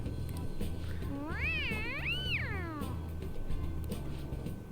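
A cat in the video game Persona 5 lets out one drawn-out, rising and falling meow, clear and fairly close over a quiet background hum with no talking.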